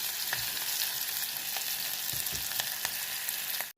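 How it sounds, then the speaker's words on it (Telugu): Chopped onions with garlic fry in a pan for a curry, giving a continuous close sizzle with faint scrapes of stirring and no talking. "ఉల్లిపాయలు వేగాయి, సగం వేగాయండి"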